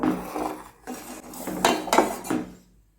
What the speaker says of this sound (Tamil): அதனால் இடையில லைட்டாக இந்த மாதிரி கிண்டி விட்டுக்கோங்க